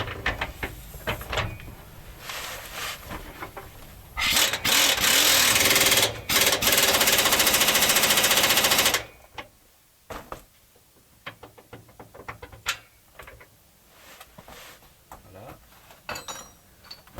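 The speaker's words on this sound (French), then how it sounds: "si vous resserrez à la clé à choc, ne la mettez pas trop fort" Impact wrench tightening bolts on the stabilizer bar of an Iveco Daily IV van, a loud continuous rattling burst lasting several seconds, framed by scattered metallic clinks and knocks of tools.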